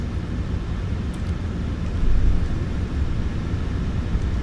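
An Allegiant airliner taxis to the gate at Sanford after an evening landing, heard as a steady, loud, low rumble of engines and cabin noise that swells slightly midway.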